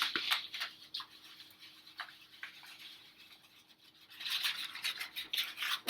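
A banana and potato mixture with a little sugar is mashed and folded together by hand, giving soft, wet squelching and scraping strokes that come in bursts, with a busier stretch near the end.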